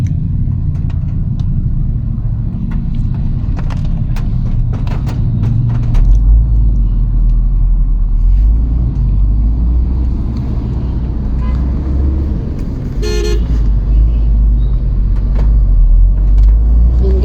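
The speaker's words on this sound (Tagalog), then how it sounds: "So, mga truck, mga sasakyan. Parang nakakatakot." Heavy road traffic of trucks and cars, with jeeps on the road, rumbles steadily and loudly throughout, with a deeper engine swell midway and a brief tonal horn-like blast near the end.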